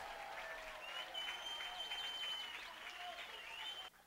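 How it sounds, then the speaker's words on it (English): Steady slow clapping and crowd noise from a baseball crowd on the sideline, continuous and fairly loud, with some voices mixed in. "A slow clap starting on the Cotuit sideline"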